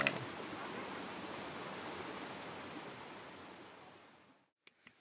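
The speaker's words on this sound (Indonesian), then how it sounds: "Kita melewati jembatan lagi dan sepertinya ada anak sungai kecil." A small stream of milky white water runs under a bridge on a mountain trail to Kawah Ratu, a steady broadband rush at moderate level that fades out near the end, followed by a couple of faint knocks.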